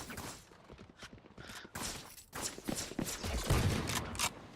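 Rapid gunfire in the video game Valorant during a tournament final, dense, overlapping bursts of shots and impacts running continuously and loudly throughout.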